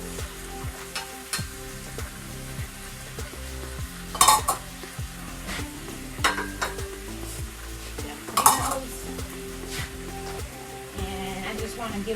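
Scallions and carrots tossed in olive oil left from browning oxtails for a Jamaican dish, sizzling steadily with stirring scrapes and two sharper clatters of a utensil against the pan.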